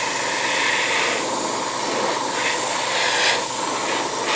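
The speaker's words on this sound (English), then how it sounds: "So we'll just use the air just to dry it now." An airbrush blows plain air to dry paint on an angel-wings stencil on a model, a steady close hiss that swells slightly at moments, with no talking.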